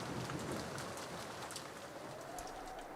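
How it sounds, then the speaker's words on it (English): Steady rain hisses evenly across the whole stretch with a faint wind wash beneath, no voices, in the Umineko: When They Cry Episode 3 visual novel scene. "Only the sound of the wind and the rain remained"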